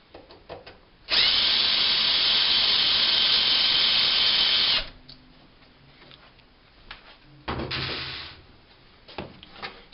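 Cordless power drill loosening 2.5mm button head screws that hold a valve in place, one loud sustained whirring burst of about four seconds, then a shorter second burst near the end, with quiet clicks and handling noise between.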